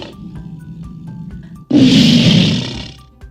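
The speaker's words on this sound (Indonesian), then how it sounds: "Betul, suara singa. Suaranya lebih besar, singa." A lion roars once from about midway, a loud, full-bodied growling burst after a quieter rumbling lead-in, fading out near the end.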